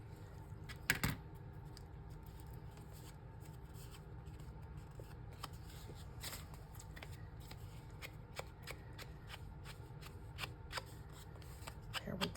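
Scissors snip and trim the edge of a small jar-shaped paper journal card, with a sharp cut near the start and lighter crisp paper rustles after it, close and quiet over a low steady room hum.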